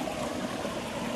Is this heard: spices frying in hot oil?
no